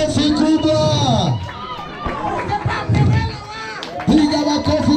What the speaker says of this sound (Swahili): Piga makofi kwa wageni